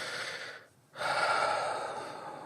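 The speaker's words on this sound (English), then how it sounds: "Take a nice big deep breath." A deep breath taken during a tapping session for health and well-being, with a long noisy inhale, a short pause, then a full, close exhale, with no talking.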